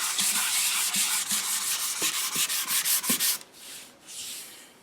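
Fine 220-grit sandpaper rubs along an HW30 air rifle's wooden stock in quick back-and-forth strokes, a close, hissing scrape that pulses rhythmically, then slows into a few longer, softer passes.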